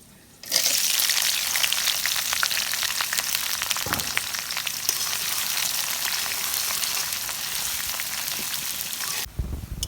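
Onions fry in hot oil in a pan with a loud, dense, steady sizzle that begins abruptly after a short quiet moment and cuts off just before the end.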